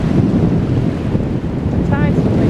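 Strong wind on Blackpool beach with the tide coming in, a loud, constant rumbling buffet across the microphone, with a faint brief tonal sound near the end.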